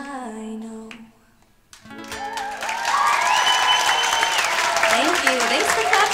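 After music fades, a recital audience breaks into sustained applause that grows and holds steady, with voices and cheering mixed in.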